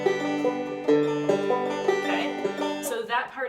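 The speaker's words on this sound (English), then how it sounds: "That part uses what's called a forward and reverse roll" Banjo picking a forward and reverse roll from Cripple Creek, a rapid run of bright plucked notes in steady rhythm, close and fairly loud with no talking.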